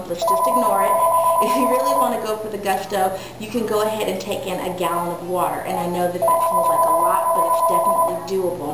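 A phone rings twice in short electronic bursts, one at the start and one near the end, under a person talking steadily close by.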